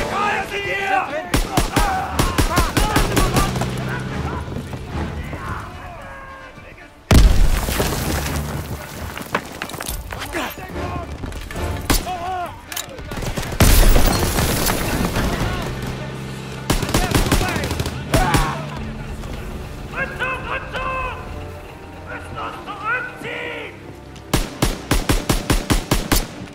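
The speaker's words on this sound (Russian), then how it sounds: "Они взрывают мост!" Bursts of rapid gunfire and heavy blasts as a bridge is blown up in the Call of Duty: WWII game, with dense chattering volleys, two sharp explosive onsets midway, and shouting voices under the battle noise throughout.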